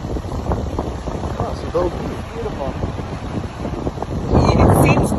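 Steady wind buffets a microphone outdoors, a constant rough rumble with a louder gust near the end, while people talk over it.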